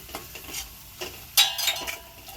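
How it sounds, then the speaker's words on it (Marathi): Fried onion is stirred with masala, turmeric and Kashmiri red chilli powder in a pan, giving short scraping strokes and a soft sizzle, with one brief louder hiss midway. "थोडं परतून घ्यायचं मसाला।"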